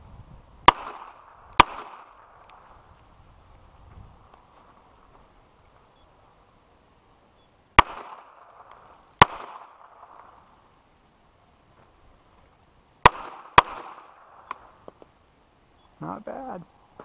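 Handgun shots crack sharply at an outdoor gun range during strong-hand and weak-hand drills, fired in three separate pairs spaced several seconds apart, each loud report followed by a short echo, with quiet gaps between.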